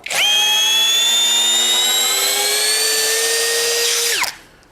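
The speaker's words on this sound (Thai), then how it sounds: "แค่หมดไขอย่างเดียวก็ลงสกูตัวใหญ่ได้แล้ว" An STR STR-712 impact drill in screw mode drives a large screw with a loud, steady motor whine that rises slightly in pitch for about four seconds before cutting off abruptly.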